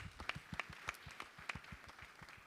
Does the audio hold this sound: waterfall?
no